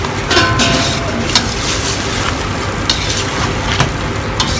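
A spoon stirring a barbunya pilaki bean mixture with olive oil and sugar in a pot, giving close scraping and sloshing strokes over a light sizzle, with no talking.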